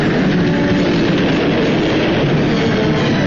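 A train rumbles steadily along the tracks, a loud, continuous roar with a faint rhythmic clatter and no voices.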